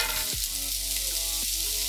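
Onions hitting residual bacon fat in a hot pan, giving a close, steady, loud sizzle with a few brief stirring knocks and no talking.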